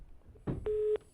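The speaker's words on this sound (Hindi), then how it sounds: "फोन डिस्कनेक्ट हो गया" Telephone line disconnected during a call. A short click is followed by a single steady tone lasting about a third of a second, faint against a quiet line.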